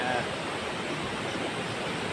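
Rainwater flowing across flooded fields after heavy rain, a steady close rushing wash of water with no pauses.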